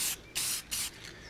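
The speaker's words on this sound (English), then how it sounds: "And then I'm just going to spray paint." A spray paint can hisses orange paint onto a fishing lure in three sharp bursts with short pauses between them. The spray is close and crisp with no talking.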